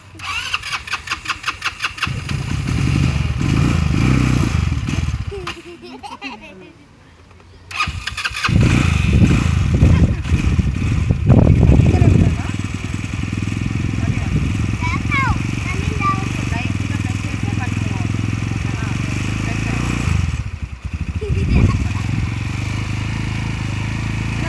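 An ATV engine is cranked with rapid chugging pulses, cuts out briefly, then catches and runs with rising and falling revs as a woman rides it. Voices talk over the engine.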